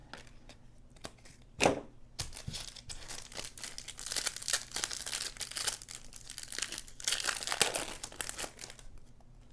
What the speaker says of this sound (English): So again, last pack that we're opening there.